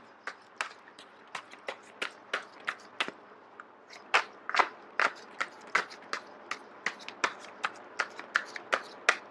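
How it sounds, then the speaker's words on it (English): Tarot cards shuffled in a steady run of crisp riffling bursts, about two per second, close and clear with no talking. "I am going to shuffle until the first card drops out"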